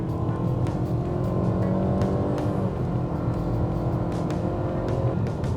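Engine of a 2020 Nissan Qashqai held at full throttle while accelerating up an on-ramp toward highway speed, a steady loud drone heard from inside the cabin that slowly rises in pitch for several seconds.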